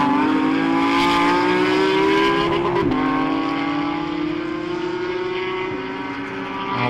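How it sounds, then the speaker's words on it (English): Race cars in an AM class BMW race circuit pass, a loud, sustained engine drone with a steady rising pitch as cars lap, one passing close before the sound eases slightly, with no talk. "we get a look back at Velasco lapping one of the AM class BMWs"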